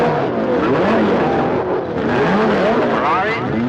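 Several 1960s race cars, including a Ferrari, roll onto the starting grid with loud, continuous engine roar and overlapping revving as they pass close by.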